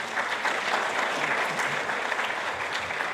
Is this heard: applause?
yes